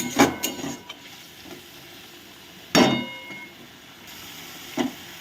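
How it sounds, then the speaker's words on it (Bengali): Spice masala sautéing in a pan, a low steady sizzle broken by a few sharp clanks and scrapes of a spatula against the metal, close by, with no speech. "ভালো করে কষিয়ে নেব"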